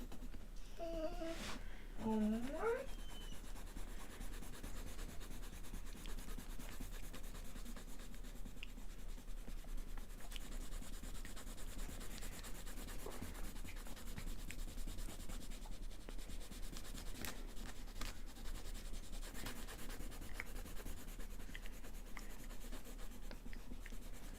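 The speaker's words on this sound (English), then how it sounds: "Let's do some shading under the jacket." Soft, continuous scratchy rubbing of a pencil shading on sketchbook paper, faint and close, with a brief child's cry near the start.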